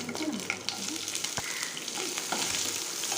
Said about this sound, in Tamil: கருவேப்பிலை பொரிஞ்ச உடனே நம்ம வெட்டி வச்சுருக்க 2 வெங்காயத்தை இதில் சேர்த்துக்கலாம்.